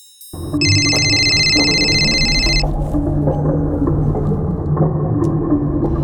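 A telephone rings with a bright electronic trill for about two seconds, then stops, leaving a low rumbling background like a car interior.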